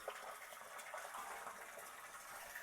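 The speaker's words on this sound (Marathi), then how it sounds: "इथून पाईप लावली आणि आता मोठी टाकी भरती." Borewell water gushing through a pipe into a large tank, a steady, full rush of splashing water heard close and continuous for a few seconds.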